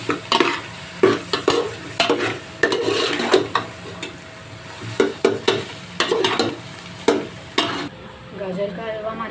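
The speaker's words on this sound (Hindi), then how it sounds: "अब हम इसको अच्छी तरह इसमें मिक्स कर देंगे।" Carrot halwa being mixed with roasted dry fruits in a pan, repeated close scraping and stirring strokes over a faint sizzle, with a short pause near the end.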